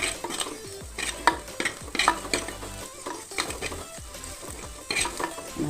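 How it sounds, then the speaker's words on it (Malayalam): Crushed garlic and ginger fry with spice powder in a pan, sizzling steadily while a spoon stirs and clanks against the metal in repeated strokes, close up and without talk. "വെളുത്തുള്ളി ഇഞ്ചിയും വേണം അത് ചതച്ചത് ഇട്ട് കൊടുക്കുന്നുണ്ട് പൊടിയും ഇട്ട് കൊടുത്തിട്ടുണ്ട്"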